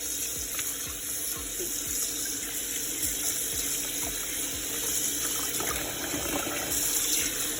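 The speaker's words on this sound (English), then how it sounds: "Wash your chicken, make sure it's clean very well." Raw chicken is washed under a running kitchen tap, with a steady stream of water splashing into a bowl or sink and soft irregular sloshes, close and without talk.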